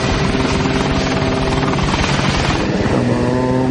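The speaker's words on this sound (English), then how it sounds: "As the plane approaches the runway, the nose is pointing dangerously low and the left wing is dropping." A low, heavy plane approaching the runway with its nose pointing low and left wing dropping, heard as a loud, steady pulsing engine drone that rises slightly in pitch toward the end.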